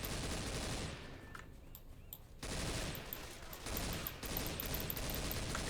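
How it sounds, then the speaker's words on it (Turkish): Gunfire from shooting zombies in Left 4 Dead 2 comes as dense, rapid automatic bursts. The firing is loud and nearly continuous, with one brief lull before it resumes. "Sonradan gelmesinler diye vuruyorum bunları."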